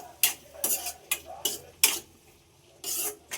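Tomatoes frying in oil for pav bhaji, stirred in the pan: a steady rhythm of sharp, close scraping strokes with a soft sizzle between them.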